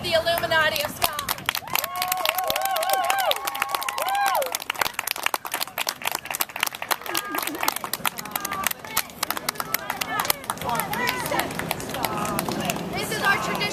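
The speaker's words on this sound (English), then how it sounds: "to give a big round of applause for the tribe of the Illuminati of Scotland" An audience applauds the cast of a Shakespeare summer theatre camp. A brief spoken introduction gives way to a dense, steady patter of many hands clapping that continues to the end.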